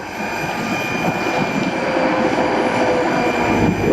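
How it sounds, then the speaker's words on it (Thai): Kobelco SK200-8 excavator working outdoors on a windy day, its hydraulic pump giving a steady high whine over a continuous engine drone, recorded up close. "เสียงมีวีดวีดน่าจะเป็นเสียงปั๊มครับ"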